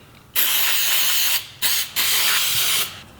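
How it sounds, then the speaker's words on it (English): An aerosol can of throttle body cleaner sprays into a Jeep Compass throttle body in three steady hissing bursts, loud and close, with short breaks between them. "Shake up the can and basically spray out the inside until it's clean."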